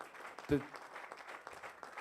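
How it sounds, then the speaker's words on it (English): Parents and coaches at a community Bible study give young men a standing ovation, a short burst of clapping heard under nearby talking. "we're going to clap for these men of character"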